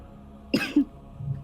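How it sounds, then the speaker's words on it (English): A character in the Dragon Age: Dissonant Verses tabletop role-play is seized by a coughing fit, two deep, harsh coughs close together at close range with no talk, then a faint low throat sound. "You're overcome with a fit of coughing."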